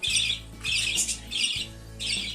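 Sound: cockatiel chick squawking while fed

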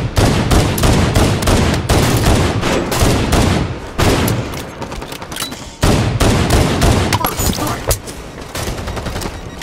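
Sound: sniper rifle firing in Halo 5 video game

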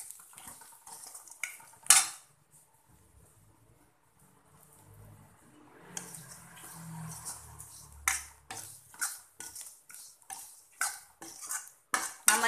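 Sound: roasting semolina (rava) with onions, stirred in pan

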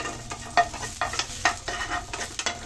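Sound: frying in pure coconut oil

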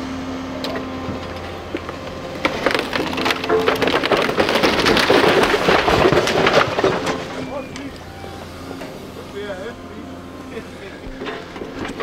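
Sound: house being demolished, wood splintering

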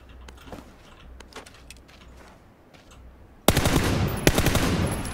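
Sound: gunshots in video game PlayerUnknown's Battlegrounds

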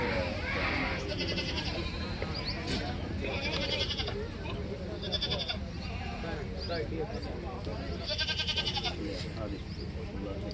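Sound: goat bleating

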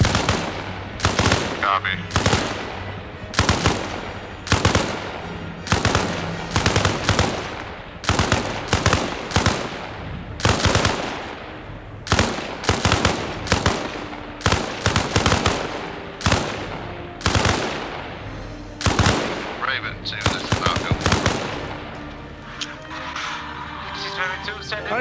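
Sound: machine gun fire in a firefight

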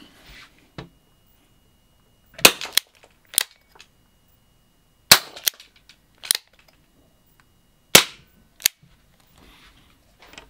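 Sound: gas gun revolver firing

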